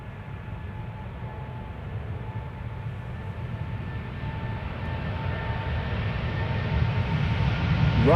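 Delta Airbus A350-900 taking off, a steady broad jet engine roar that slowly swells louder over several seconds, with faint whining tones riding on top.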